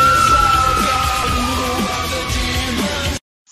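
Girls scream and yell loudly and continuously on a fairground ride, sustained shrill voices filling the clip before cutting off abruptly near the end.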